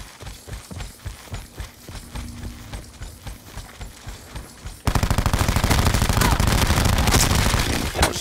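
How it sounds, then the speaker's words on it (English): A cordite submachine gun with an enormous magazine firing in a video game, first in spaced bursts of rhythmic shots, then a loud, sustained rapid stream of fire, with a voice talking underneath. "It's an enormous magazine submachine gun."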